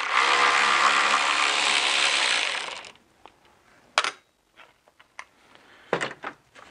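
A ratchet loosens a T25 screw holding the radiator of a BMW E46, heard as a close burst of clicking and whirring, then several sharp metallic clicks and clunks with pauses between.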